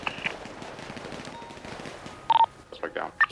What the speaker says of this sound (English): Shoot him, shoot him, shoot him.